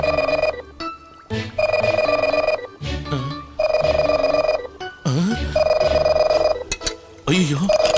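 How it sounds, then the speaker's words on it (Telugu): A landline telephone rings inside a house with repeated electronic bell bursts, each lasting about a second with short gaps between them, while people speak between and over the rings. "అయ్యో, లోపల నుంచి రింగ్ అవుతుంది."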